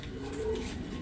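Soft, close cooing of a pigeon, a single low throaty coo lasting about a second against quiet background.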